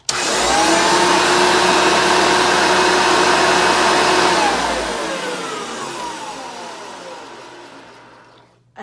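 A repaired direct-air vacuum cleaner motor, its fan caked with some dust, whines loud and close at full speed for several seconds, then switches off and spins down with a falling tone into quiet.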